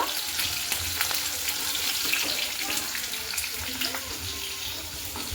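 Okra frying in oil after being turned over, a steady close hiss and crackle running throughout with faint spatter ticks.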